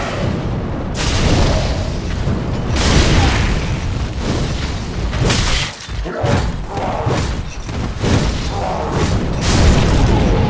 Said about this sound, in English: Fire orbs just making a mess of these guys, absolutely loving it.